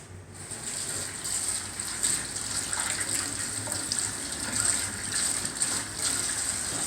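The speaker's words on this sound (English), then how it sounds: "wash my hands real quick" Tap water runs steadily into a kitchen sink while hands are rinsed under the stream, a continuous close hiss with small splashy shifts and no talking.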